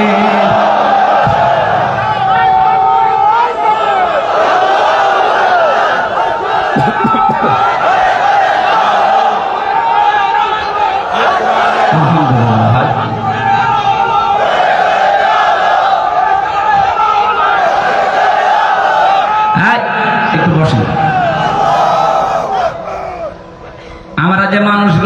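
A large crowd at an outdoor daytime religious sermon gathering on a college field in Lalmai, Comilla, roars a takbir chant in loud rising shouts, with an amplified voice speaking throughout.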